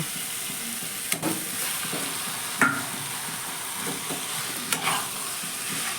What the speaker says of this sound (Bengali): এবার দেখো মশলা থেকে তেল ছেড়ে গেছে এবার আমি মাছগুলো দিয়ে দিব